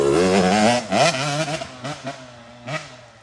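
A Beta motorcycle is ridden nearby, its engine revving and dropping in several rising and falling pulls with a buzzy, rapidly changing pitch, loud and close with no talk.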